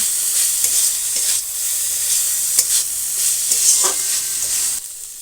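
Cauliflower samosa filling with sugar and amchur powder is stirred in a hot pan, giving steady frying sizzle and repeated scraping strokes of the spoon, close and fairly loud with no talk.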